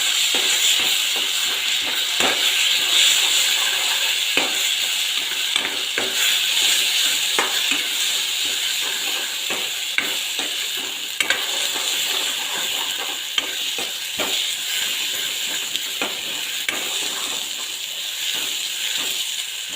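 Meat fries with ginger and garlic in a pan, giving a steady loud sizzle and hiss as a utensil scrapes and stirs in irregular clinks throughout, with no speech.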